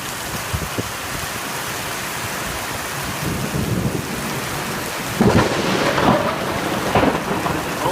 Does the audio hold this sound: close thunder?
yes